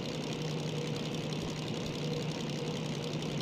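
A DM3 diesel locomotive in Derail Valley runs at full throttle, its engine giving a steady, droning hum with a low tonal rumble and no voices.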